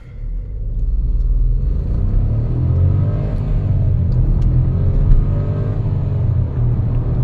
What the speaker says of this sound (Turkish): Motor tınısını da çok sevdim aslında